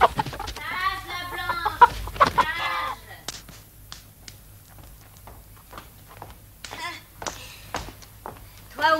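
Hen clucking in a farmyard scene of a French historical drama, a burst of clucks and squawks up front, then sparse taps and lighter clucks over low background hum.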